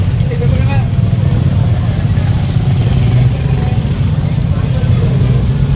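A motorcycle engine idles and rumbles nearby at a busy fishport, a continuous low drone under someone talking.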